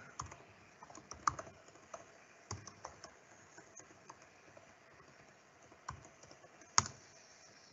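Someone types a password on a computer keyboard while logging into Ansible Tower, sparse faint key clicks in irregular bursts with a few louder taps and long quiet gaps.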